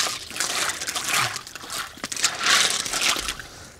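Water from a pump splashes and trickles steadily over dusty construction gravel in a frog pond being rinsed clean, with a continuous hiss and surges of spray close by.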